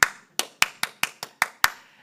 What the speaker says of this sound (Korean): 예전에 응원 많이 했던 337 박수 생각나세요?